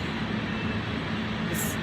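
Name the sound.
walking through Zurich train station corridor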